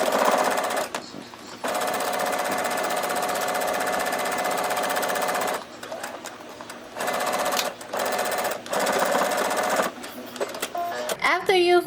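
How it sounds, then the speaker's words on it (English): A sewing machine bastes along a fabric edge for a bikini top in loud, close runs of rapid stitching, stopping and restarting several times, with a voice talking during the pauses. "you're going to take this to your sewing machine and you're going to baste along this edge"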